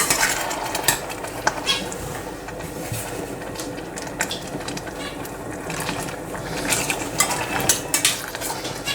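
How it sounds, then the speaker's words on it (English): A spoon stirs apricot chili chutney with whisky in a pot, making steady scraping and clinking with irregular sharper taps against the metal over a continuous low background. "And remember, it's to keep on stirring it."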